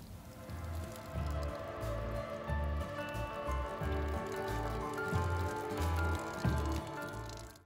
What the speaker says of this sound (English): pull the trigger and let the water run through